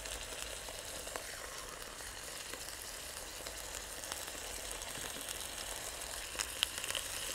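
Pork slices fry in a full pan outdoors, giving a steady, even sizzle that carries on unbroken with a few faint crackles near the end.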